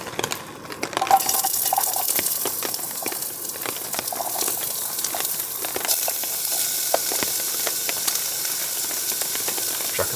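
Onions sizzling in butter and coconut oil in a pan at a rainy campsite, a steady close frying hiss with faint crackles and occasional light clinks throughout.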